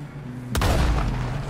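A single loud gunshot or explosion bursts in the Red Dead Redemption 2 game, followed by a booming rumble that lingers under steady ambient noise.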